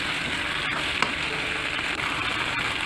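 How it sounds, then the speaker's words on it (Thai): Pork ribs stir-fried with curry paste in a hot pan, giving a steady, loud sizzle throughout with a sharp clack near the middle from the pan or a spatula. "ตามด้วยขาอ่อนของเราค่ะโยนลงไปเลย ผัดผัดผัดนะคะ"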